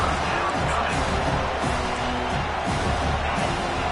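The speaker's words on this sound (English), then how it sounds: "Decibels rising as the crowd gets behind this defense on 3rd down." Football stadium crowd at a Miami vs Iowa game making a dense, loud roar of noise and cheering on a third-down defensive stand, steady and broadband with voices blended into it.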